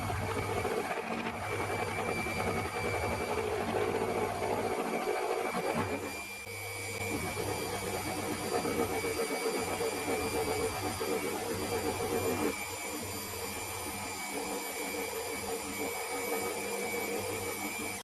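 A small metal lathe grinds steadily through a heavy cut, a continuous dense machining drone with a brief dip partway through and a slight change in tone later.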